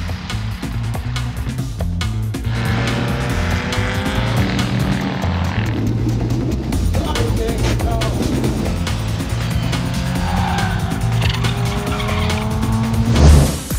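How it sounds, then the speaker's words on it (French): Classic cars racing around the 3 km Brest circuit during a historic Tour Auto stage, engines droning loudly and continuously with shifting pitch as cars pass, a brief tire squeal near the end. "le point d'orgue de l'étape est une course au circuit de Brest"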